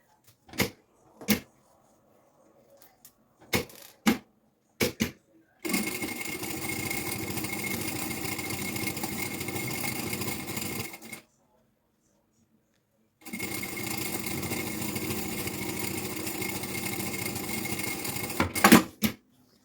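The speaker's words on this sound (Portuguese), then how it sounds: "agora vamos passar uma costura à largura do calcador" A sewing machine runs a seam at presser-foot width through a backpack lining over foam, in two long steady runs separated by a pause, with a few sharp handling clicks before the first run. Close and clear.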